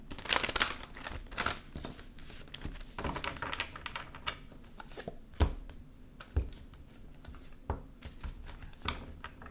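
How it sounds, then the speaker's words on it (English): Soft, rapid papery riffling and tapping as tarot cards are shuffled close by, with a few sharper slaps at irregular intervals. "One final card I'm going to shuffle."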